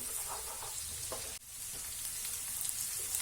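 Ingredients sizzle and fry steadily on a hot tawa for street-style tawa pulao, a continuous close crackle with a brief dip midway and no talking.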